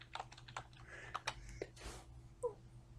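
Computer keyboard typing a folder name, a short burst of several distinct close key clicks spaced irregularly, with a louder keystroke near the end over a faint steady hum.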